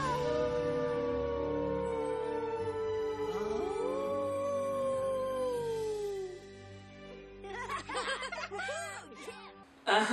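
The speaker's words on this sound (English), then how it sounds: "Their old home where they howl at the moon." Cartoon wolves howl at the moon in an animated film, long rising and falling tonal howls overlapping for several seconds, then a burst of chattering, yelping sounds near the end.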